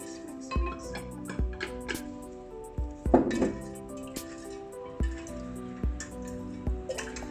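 Liquid stirred while mixing a sugar scoby batch, with light clinking taps of utensil against container and small drippy splashes recurring irregularly, quiet and close.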